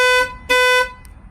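A Clifford 3105 car alarm in panic mode blares loud, close, two-tone bursts, sounding twice in quick succession and then cutting off.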